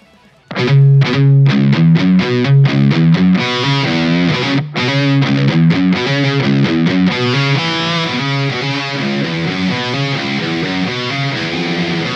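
Heavily distorted high-gain electric guitar through a Diezel VH4 amp plays chunky palm-muted chugs and sustained chords, loud and saturated, starting abruptly after a brief quiet moment.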